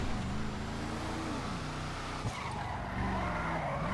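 In GTA Online, a newly customised car drives hard with its engine wavering up and down and its tyres squealing in long, sustained skids, loud and continuous throughout.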